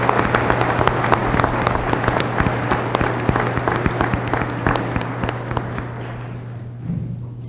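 A large audience at a spring 2023 college commencement at Allegany College of Maryland gives graduates a sustained round of dense, crackling applause that holds steady, then thins and fades toward the end.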